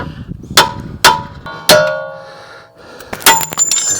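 Sharp metallic clangs of a hammer driving tapered bolts out of a Buick Enclave front strut spindle, three loud ringing strikes spaced about half a second apart, then a pause and a quicker cluster of hits.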